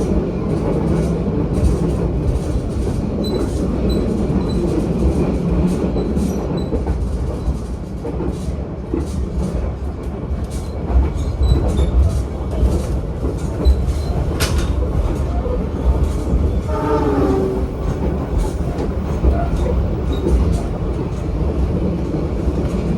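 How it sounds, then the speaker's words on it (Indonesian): A KA Parahyangan passenger train on an Indonesian railway rolls along with a constant loud low rumble and rhythmic wheel clatter, heard steadily throughout. "Kereta api Parahyangan 138 ini merupakan rollingan dari KA Pandalungan."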